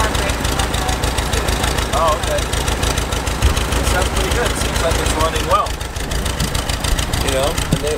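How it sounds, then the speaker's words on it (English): The original engine of a Volkswagen Westfalia pop-top camper van, with a freshly adjusted dual carburetor, idles steadily and evenly nearby while people talk over the running motor. "so this is where the motor is at down here. This is actually the original motor."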